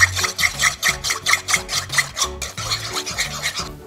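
Eggs whisked briskly in a bowl, with a fast, even rhythm of scraping, rasping strokes, close and loud with no talking.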